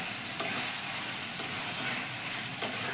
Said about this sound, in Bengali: ডিমটা দিয়ে ডিমের মধ্যে যাতে মশলাটা ঢোকে একটু নাড়াতে হবে